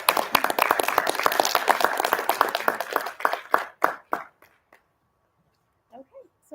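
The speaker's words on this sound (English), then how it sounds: "let's give a round of applause to all of our head of the department" Round of applause for department heads at a Board of Health meeting, a small group clapping briskly for about three seconds, then thinning to scattered claps and stopping, with a little speech near the end.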